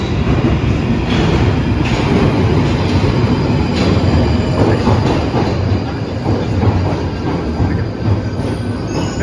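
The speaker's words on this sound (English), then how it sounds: "The train now approaching is to Battersea Power Station." A London train pulling into the platform at Battersea Power Station, with continuous close rumble, rattling wheels and brief squeals throughout, loud and steady with no talk.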